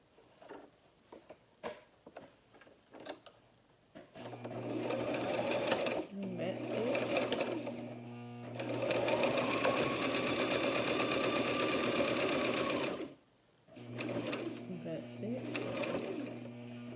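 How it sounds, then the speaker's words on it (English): A sewing machine stitches fabric for a homemade face mask in close, loud bursts of rapid whirring separated by short pauses, with a few light clicks of handling before the first run. "I'm going to sew this section down"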